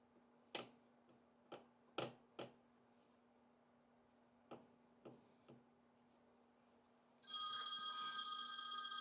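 A phone rings with a bright, sustained electronic tone that starts near the end, after a few scattered clicks and taps in a quiet room, and no one talks.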